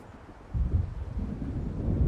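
In the Alan Wake video game, wind from an approaching storm roars as a low, rumbling gust that swells and then holds steady, a dull blustery rush with a faint distant thunder-like undertone.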